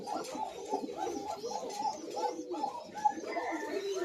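Male and female Koka pigeons coo in repeated soft, throaty bursts, a steady rolling rhythm of overlapping calls close by.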